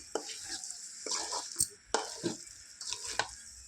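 A spoon stirs chicken and flat bean curry in a pan, giving repeated scraping strokes over a soft background sizzle of cooking, close and moderately loud, with no one speaking.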